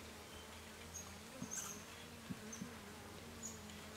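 Honeybees (Apis) at an open hive produce a soft continuous buzzing drone, with individual bees whizzing close past in brief louder passes over the low hum, no talking.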